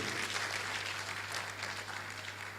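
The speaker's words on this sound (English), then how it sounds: "Give me a round of applause." An audience at an anniversary and foundation launch event claps in a steady, fairly faint round of applause, with a constant low hum running underneath.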